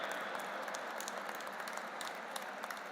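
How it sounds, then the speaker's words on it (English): An audience at an interfaith harmony conference claps steadily, a faint, distant wash of applause with scattered individual claps and no single voice standing out. "a big round of applause and a standing ovation"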